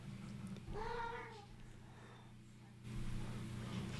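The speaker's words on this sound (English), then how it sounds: "These 2 cats are talking to each other in the middle of our video." Two house cats trade meows indoors. One rising, warbling meow stands out over a low steady background hum, followed by quieter muffled sounds.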